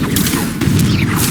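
Confringo blasting spell from the Hogwarts Legacy video game, a loud, dense burst of booming explosive crackle with rumbling low end, sustained for about a second.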